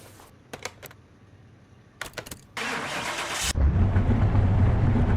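In the game Car Mechanic Simulator 2021, a few sharp clicks, then a starter cranks briefly before a junkyard car engine catches and settles into a loud, steady idle. Nobody speaks.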